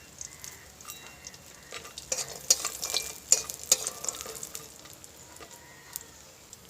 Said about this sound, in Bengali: ডালের বড়িগুলো কিন্তু আমি লাল লাল করে ভেজে নিচ্ছি